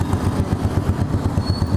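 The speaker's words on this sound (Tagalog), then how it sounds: "Yan yung motor natin no, pang tricycle." A motorcycle engine converted from a tricycle setup for trail riding runs close by with a steady, throbbing idle and a clattering pulse, loud and alone.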